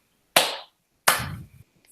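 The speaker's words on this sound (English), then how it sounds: "we should give ourselves a round of applause" Two sharp, isolated claps ring out close by in a quiet room, spaced about a second apart, with a faint low voice murmur after the second.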